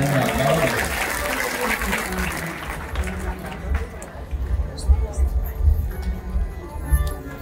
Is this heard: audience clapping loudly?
yes